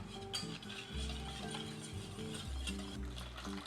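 A whisk beats hot liquid into eggs in a bowl for baked chocolate pudding, a steady rapid mechanical clicking and rattling with a low hum underneath, close and continuous without speech.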